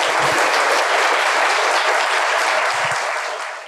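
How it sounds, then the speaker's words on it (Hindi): A studio audience on a Pakistani television Mother's Day special breaks into loud, dense applause that holds steady for several seconds before tapering off at the end. "भरपूर तालियां होनी चाहिए।"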